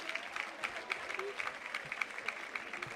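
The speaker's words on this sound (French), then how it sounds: "Applaudi par le stade de Commentry" A rugby stadium crowd applauds at a match, scattered clapping heard faintly at a distance beneath a voice.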